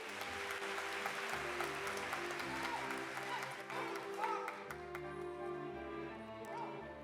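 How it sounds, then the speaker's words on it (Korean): Audience applause at a 2024 ceremony appointing new police lieutenants and inspectors: sustained, fairly faint clapping from a large crowd over a low tonal backdrop, with no speech. "수상자에게 다시 한번 큰 박수 부탁드립니다."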